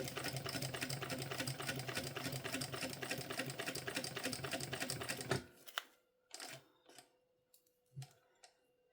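A sewing machine stitches a mini backpack in a fast, steady mechanical clatter for about five seconds, then stops, followed by a few scattered clicks and handling knocks.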